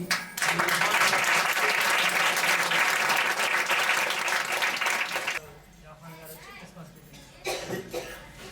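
A congregation at a Christmas church celebration breaks into loud, dense applause for about five seconds, then it stops abruptly, leaving a quieter room with a voice speaking over a microphone.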